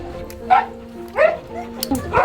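Huskies pulling a sled on a Swiss alpine trail give several short, close barks and yips in quick succession, with a steady low background hum between them.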